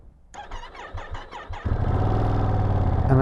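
A 2025 Ducati Panigale V2S being started, a sluggish starter motor cranking in several rhythmic pulses before the engine catches and settles into a loud, close, steady idle.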